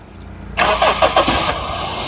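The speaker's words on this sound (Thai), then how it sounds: "เดี๋ยวผมลองสตาร์เครื่องให้ดู" A 1.6-litre VVT-i Toyota Altis, unmodified and never fitted with gas, cranks and fires from cold after sitting all day, a short burst of starter whirring catching into a loud, steady idle close by.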